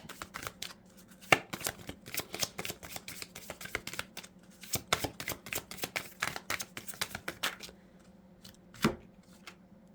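Moonology oracle cards are shuffled in close, crisp bursts of rapid riffling flicks and slaps, coming in uneven clusters with short pauses between.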